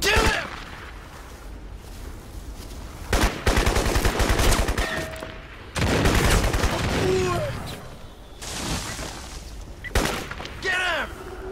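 Gunfire in the video game Crysis, loud bursts of automatic weapon fire in several clusters with booming impacts between quieter stretches, mixed with shouted voices.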